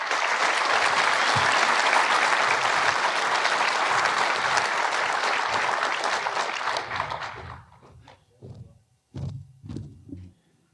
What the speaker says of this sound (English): So please, a round of applause for Daniel McAdams.